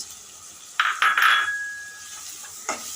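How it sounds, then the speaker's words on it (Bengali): A spatula scrapes and clinks against a pan as turmeric, chili and coriander powder are stir-fried with tomato for a spicy chicken-feet bhuna. A short burst of metallic scraping comes first, then quiet, then one more faint clink. "এবার মশলাটা একটু কষিয়ে নিব"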